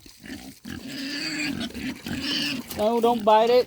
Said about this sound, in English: Pigs are messing with the water hose here.